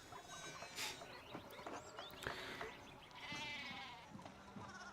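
Sheep bleating in the video game Pentiment, several short wavering bleats scattered over a few seconds, fairly quiet and alone with no talk.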